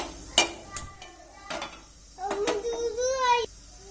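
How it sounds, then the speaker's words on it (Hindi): A metal pot clanks down with a few sharp knocks on a gas stove, then water pours in with a rising gurgling stream. "हम रखेंगे इस तरह से एक बर्तन और इसमें डालेंगे ये थोड़ा सा पानी"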